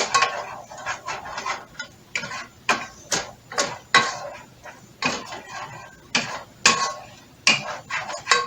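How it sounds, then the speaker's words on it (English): A utensil stirs beef enchilada ingredients and garlic in a pan, making crisp metallic clinks and scrapes in a steady rhythm of roughly one or two strokes per second, close and clear with no talking. "I'm just stirring this around to get everything coated"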